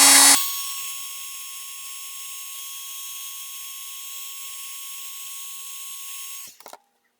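An embossing heat tool sets powder on a handmade Valentine's card. It gives a steady, close, loud blowing whine with a constant tone for about six seconds, then cuts off.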